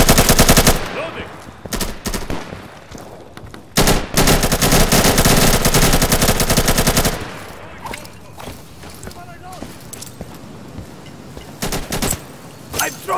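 AK-74 rifle fire in the Insurgency video game comes in loud, rapid automatic bursts, with a long sustained string in the middle and shorter volleys before and after, close and dominant.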